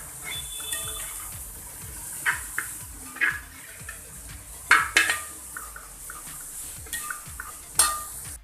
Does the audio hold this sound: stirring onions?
yes